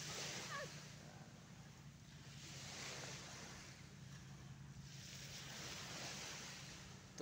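Sea waves wash onto a shore in the Philippines, a steady broad surge of surf swelling and easing in slow rhythm, with wind noise and a low hum underneath and no talking.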